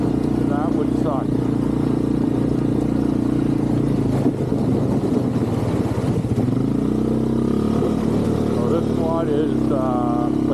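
A Yamaha Big Bear 350 semi-automatic ATV engine runs steadily on a winter ride, a loud continuous mid-pitched drone with slight revving, while a person talks over it.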